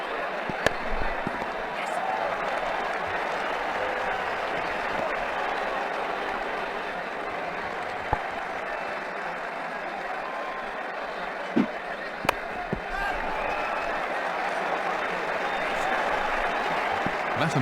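A crowd roars and cheers in the Ashes Cricket 2009 video game after a boundary shot, a broad sustained wash of noise with a few sharp knocks on top, while commentary talk runs underneath.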